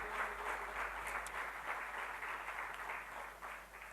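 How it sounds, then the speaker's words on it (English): Faint, distant round of applause from an audience at an Actuaries Day event, a soft continuous patter of clapping at low level for several seconds. "did we hear a round of applause from all the young girls and boys here?"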